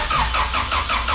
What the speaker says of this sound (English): he's about to start it up and see how it goes from there.